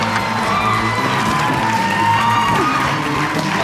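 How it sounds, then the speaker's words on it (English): A game show studio audience cheers on a team, a loud, continuous wall of crowd shouting, whooping and children's voices, with a host speaking over it. "Let them know, audience. You can cheer them on."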